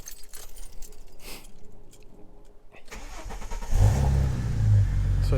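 A turbocharged Ford Falcon AU engine cranks and fires up about midway, settling into a loud, rumbling idle after some quiet rustling and clicks.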